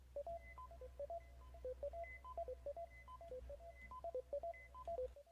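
A self-made synth lead preset in an electronic track, a bouncy run of short, bright, beeping notes over a low sustained hum, quiet and steady, without talk.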